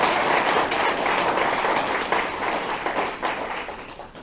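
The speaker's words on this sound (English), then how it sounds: "join me in a huge round of applause for all these wonderful legislators joining us today" Applause from an audience at a political party town hall, honoring the state legislators in attendance: a dense, steady wash of many hands clapping close by that slowly thins out toward the end.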